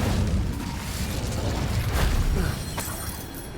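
The Incendio fire spell cast in Hogwarts Legacy, a loud rumbling whoosh of flame with a low booming body that swells and then fades.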